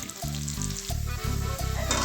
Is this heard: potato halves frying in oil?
yes